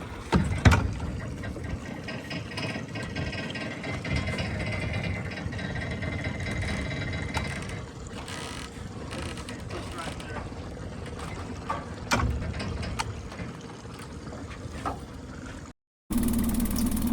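An outboard motor on a rebuilt, once-abandoned lowside Gheenoe boat runs steadily at idle, a continuous low rumbling drone with a brief cutout near the end before resuming.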